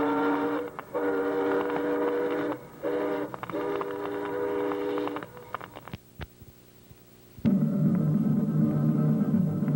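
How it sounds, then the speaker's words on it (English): A freight train rolls through a small-town Florida station in 1932, a steady loud rumble with several long horn or whistle blasts, a brief lull, then renewed heavy noise close by. "A freight train passes through the Daytona Station on its way north."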